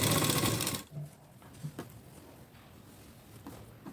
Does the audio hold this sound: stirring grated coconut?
no